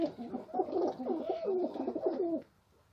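Azerbaijani pigeons in a coop coo in a run of close, throaty rolling calls lasting a couple of seconds before fading to quiet.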